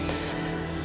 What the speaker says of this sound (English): that's just me spraying it with a bit of oil to help with the crust